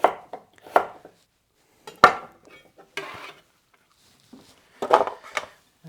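Knife chopping vegetables into rough chunks on a cutting board, a handful of sharp, irregularly spaced knocks with quiet gaps between them, close and clear with no talk.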